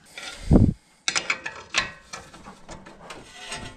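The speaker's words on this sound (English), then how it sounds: "The dust shield or backing shield or whatever you want to call it is rubbing up against the rotor." Metal scraping as a Subaru brake dust shield rubs against the brake rotor: close, irregular rasping bursts, with a heavier thump near the start and softer scrapes that follow.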